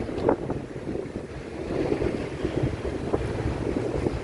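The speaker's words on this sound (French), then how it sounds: "il y a du vent" Steady wind buffeting a microphone outdoors, a continuous low rumble with gusty swells and no voices.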